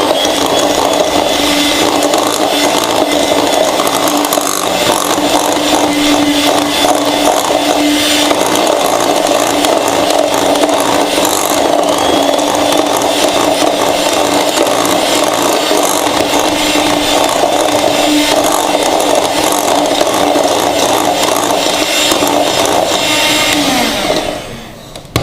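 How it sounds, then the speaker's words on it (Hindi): Butter and sugar are beaten together for biscuit dough, giving a loud, continuous whirring and rubbing churn that holds steady for the whole stretch, close and unbroken, before cutting off at the end. "चीनी भी मैंने डाल दी, इसको बीट करेंगे थोड़ी देर।"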